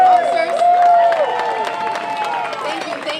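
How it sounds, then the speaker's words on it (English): An outdoor community crowd at a National Night Out event applauds and cheers for Boston police officers, a sustained wash of clapping and shouts with a voice ringing over it at the start. "Let's give a big round of applause for our police officers"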